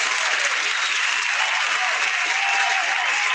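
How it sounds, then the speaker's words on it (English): A pow wow crowd applauding heavyweight dancers, dense steady clapping that fills the space evenly, loud and continuous without a break. "give them a round of applause"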